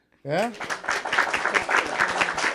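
People on a podcast-style show clap to celebrate reaching their fifth episode, a steady run of close claps that starts at once, while voices talk and cheer over it.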